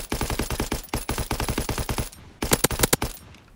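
Rapid automatic gunfire in the Call of Duty WWII video game, a fast steady string of sharp close shots that stops briefly, then resumes in a shorter burst of cracks.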